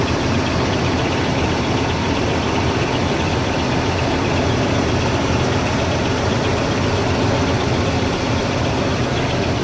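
A 1984 GMC 1500 C pickup truck engine idling steadily after a cold start, a loud, even, continuous rumble with no talk over it.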